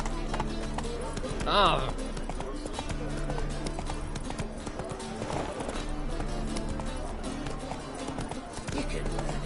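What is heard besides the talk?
horse riding, hooves clip-clopping in The Witcher 3 video game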